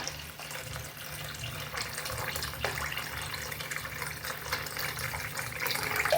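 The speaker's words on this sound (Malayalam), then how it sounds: "വെള്ളം ഒഴിച്ചു കൊടുക്കാം" Water poured over rice for rasam rice, a continuous splashing, gurgling stream that runs steadily and grows slightly louder for about six seconds, with no talking.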